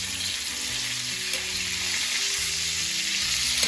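Poli flatbread roasting on a hot pan over lowered gas, a steady soft sizzle holding evenly throughout, with no talk.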